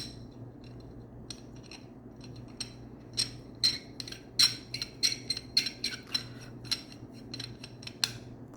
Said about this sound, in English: I'm going to put the hilts back together.